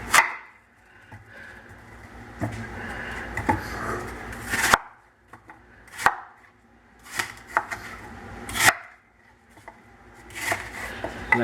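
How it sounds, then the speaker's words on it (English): Apples are chopped into large pieces on a cutting board, a series of sharp, close knife thunks spaced irregularly with quiet gaps between them, with no talking. "I'm going to cut the apples in large pieces."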